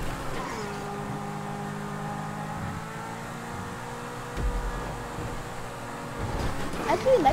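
Car engine in a Grand Theft Auto V race, a steady droning hum with tonal whine held at a constant level, with a couple of louder bumps near the end.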